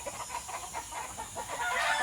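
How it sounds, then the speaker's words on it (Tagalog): Tethered chickens cluck repeatedly outdoors, a busy overlapping chatter of fowl at moderate distance with a steady background hiss. "meron din tayong mga nakatali dito na mga manok"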